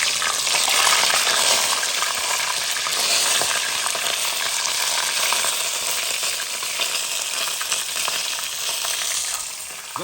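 Mussels in tomato sauce with spices and water sizzle and spit in a hot pan, a steady close crackle with occasional stirring clatter throughout.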